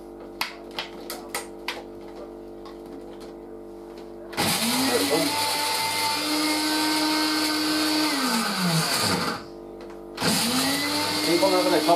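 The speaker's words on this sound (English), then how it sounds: "I'll chuck that in the blender. On goes the lid. On goes the switch" A kitchen blender chops onion for homemade burgers in a loud, steady whir that runs for about five seconds, stops briefly, then starts again; scattered clicks and handling knocks come before the motor kicks in.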